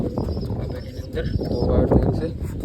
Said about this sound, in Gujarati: આની અંદર બંને કબૂતર અત્યારે બેઠા છે